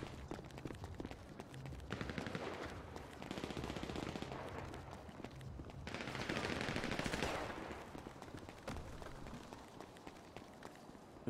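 Gunfire in the GTA RP video game, rapid bursts of shots crackling continuously at moderate volume, with some footstep-like movement and no clear speech.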